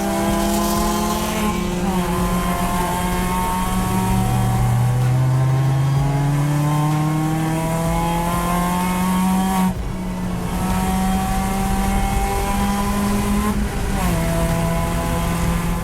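Race car engine droning loudly and steadily as it laps Clark Speedway in a 2024 endurance race, with repeated gear changes and rising, falling revs heard up close from the car.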